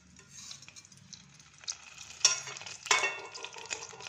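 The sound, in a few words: mustard seeds, chana dal, urad dal, cumin, fenugreek spluttering in oil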